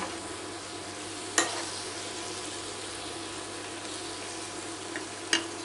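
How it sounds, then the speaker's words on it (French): Minced meat fries in vegetable oil in a pan. A faint, steady sizzle runs throughout, broken by a few sharp utensil clicks against the pan. "on va venir faire cuire notre viande hachée"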